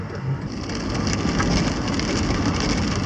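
Steady rain falls on a motorhome during a drive downtown, a dense, continuous hiss and patter at fairly high loudness with no let-up.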